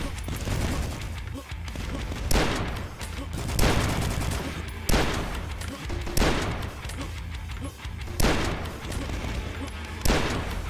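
Gunfire in the retro shooter Dusk, a string of loud booming shots spaced roughly a second apart, each with a short rumbling tail, over a steady bed of game noise.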